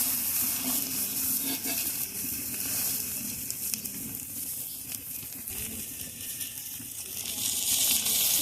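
An egg omelette fries in oil in a pan, giving a steady broadband sizzle throughout with small stirring and scraping touches as it is turned over, rising slightly louder near the end.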